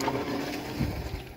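A small rowboat moves across a flooded village fish enclosure, with a steady watery wash and soft wind rumble close by and no voices.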